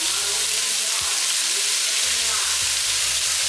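Thyme sprigs, yellow onion, green onion and red bell pepper sizzle loudly in coconut oil for Jamaican cabbage, a dense close frying hiss with low intermittent humming underneath.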